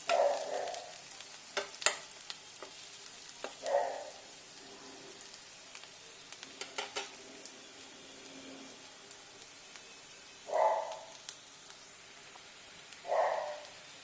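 Chicken frying in a pan with garlic and onion gives a quiet, steady sizzle, broken by a few louder stirring or clattering bursts at irregular intervals.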